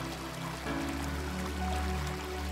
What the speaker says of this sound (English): you are never very far from the sounds of rushing water, mile after mile that tumble down the boulder-strewn streams and rivers